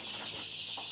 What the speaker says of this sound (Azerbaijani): 10 aprel çıxan cücələrdir. 10 günlük olublar.